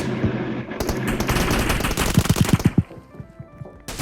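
Rapid bursts of gunfire from an SLR rifle in the mobile game PUBG Mobile in team deathmatch, a dense string of close, loud shots followed by a few spaced single cracks.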